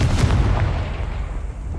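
A Confringo spell explosion in the video game Hogwarts Legacy: a loud, heavy blast with a deep rumbling boom that decays over under two seconds.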